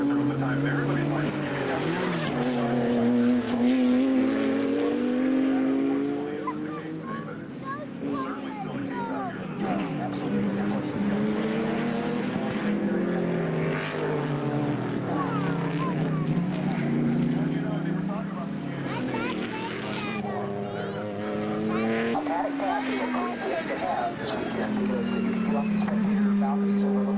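Race cars at Mid-Ohio, big thumping V8 Camaros alongside Mazdas and BMWs, roaring past with rising and falling engine tones throughout, loud and continuous, with a commentator talking over them.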